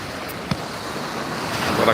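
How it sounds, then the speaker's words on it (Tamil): Sea waves washing ashore at Gandhi Beach, Pondicherry, heard as a steady broadband surf wash that swells slightly toward the end, with wind noise over the microphone and no speech. "மனதை வருடும் கடல் அலை"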